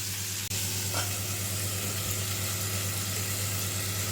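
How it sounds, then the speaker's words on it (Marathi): Chicken pieces in Malvani masala fry in a pan, giving a dense, steady sizzle close by, with a low hum underneath and a brief click at the start. "हे बघा आता आपण थोडंसं साईडने देखील ह्याला फ्राय करून घेऊया"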